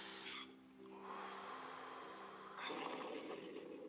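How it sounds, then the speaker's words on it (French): A person's breath taken during a guided body-awareness exercise, a soft airy breath sound with a fuller exhalation rising toward the end, close and quiet, with no talk over it. "Une respiration."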